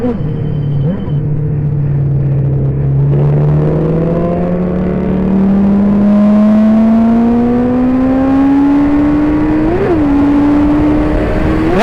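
A racing sidecar motorcycle at practice on the Barber track climbs steadily through its gears, its engine whine rising in pitch for about ten seconds with a brief blip near the end, loud and sustained with no talking.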